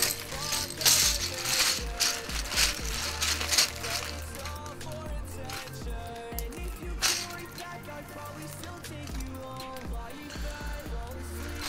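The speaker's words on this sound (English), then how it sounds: "let's give you guys a little typing sounds" Fingers type on a mechanical keyboard with unlubed switches, producing a dense, rapid clatter of clacky keystrokes that runs steadily and close throughout, with a faint tonal background underneath.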